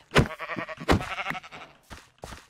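Sheep in the Minecraft video game bleat several times in quick succession, loud and close, with a couple of shorter fainter bleats trailing after and no talking over them.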